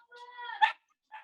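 Dogs in the distance give a whining, yelping bark followed by another short yip, faint and brief in a quiet room.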